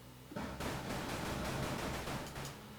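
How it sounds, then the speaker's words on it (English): Steady hiss of synthesized white noise, broadband and constant, starting abruptly after a brief quiet moment and holding at an even level. "I just use it for white noise really"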